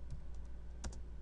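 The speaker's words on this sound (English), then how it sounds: "We gotta type something in." Computer keyboard being typed on as a network route command is entered, a few faint, scattered key clicks with one sharper double tap near the end, quiet and close in a hushed room.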